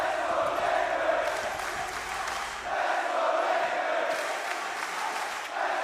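A large esports arena crowd at the 2024 Manchester Major semifinals roars and cheers steadily, swelling in waves of loud, dense noise.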